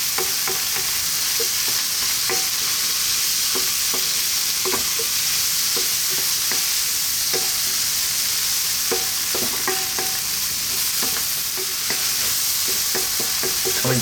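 Mushrooms and vegetables fry in a hot pan with a steady, loud sizzle throughout, broken by frequent scraping and stirring knocks from a utensil.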